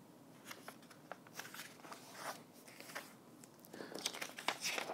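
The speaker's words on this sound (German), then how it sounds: "Für das gleichseitige Dreieck wird ein DIN A4-Papier benötigt, das zunächst in der Mitte geknickt wird." A sheet of A4 paper is creased and folded in half, giving soft, irregular crinkling and rustling that runs throughout, growing a bit louder and busier toward the end, close and fairly quiet.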